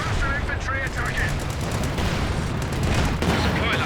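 Dense artillery bombardment in the video game Company of Heroes 2, loud rumbling blasts and crackling gunfire rolling continuously under a voice talking.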